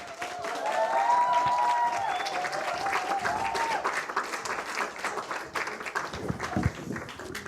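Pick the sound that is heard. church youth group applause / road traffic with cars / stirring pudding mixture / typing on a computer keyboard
church youth group applause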